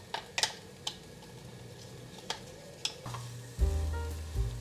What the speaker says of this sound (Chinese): 就像这样不停的来回翻炒，用中小火。